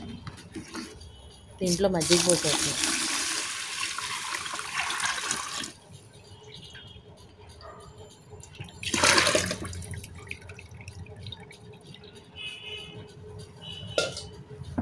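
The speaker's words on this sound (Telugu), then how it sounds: "దీంట్లో మజ్జిగ పోసేస్తాం." Buttermilk pours into a container for about four seconds, followed by a shorter splash later, with voices and occasional clinks nearby.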